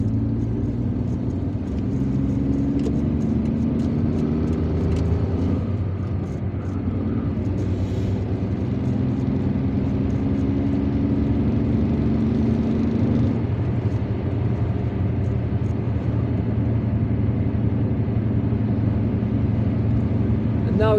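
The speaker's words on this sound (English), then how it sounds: "And now we are driving east towards the town of Ain Benian." A car drives along a road in Algeria heading east toward Ain Benian, its engine and tyre rumble a steady low drone throughout, with a voice talking over it.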